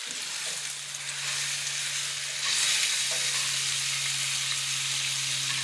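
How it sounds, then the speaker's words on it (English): Ribeye steaks searing in a hot pan give a broad, steady hiss of sizzling fat that swells slightly partway through, close up and continuous, with a faint low hum beneath and no talking. "You just want to put a good sear on them."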